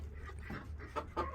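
Soft, scattered clucking from a few chickens in a barn coop, close by over a low steady background rumble.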